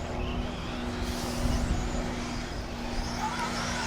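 Tekno RC ET410.2 electric buggies racing around a track, a continuous whining, buzzing motor drone with steady broadband track noise, fairly loud and unbroken, no clear voices.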